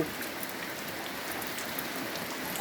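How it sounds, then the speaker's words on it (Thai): Rain falls on a roof in a soft, steady patter of dense drops, fairly faint and unbroken, with no voices. "วันนี้ก็ ฝนตกอีก"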